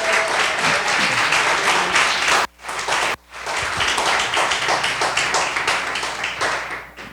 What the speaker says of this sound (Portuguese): Aplauda a palavra do Senhor em nome de Jesus nessa noite